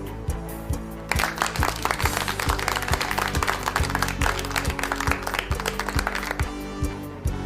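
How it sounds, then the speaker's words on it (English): A "fireworks clap" for children on a radio mathematics lesson: rapid, crisp claps in quick bursts over a bright tonal musical backing that carries on throughout. "Now give yourselves a fireworks clap."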